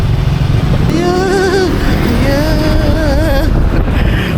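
A Grab motorbike taxi pulls up on a street in Ho Chi Minh City, Vietnam, its loud engine rumbling close with wind buffeting, while voices and tonal calls rise over it briefly.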